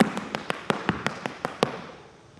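Irish dance shoes striking a hard floor in treble and tip-toe steps, about nine crisp, sharp taps in a quick, slightly uneven rhythm, close and alone, each followed by a short fading ring.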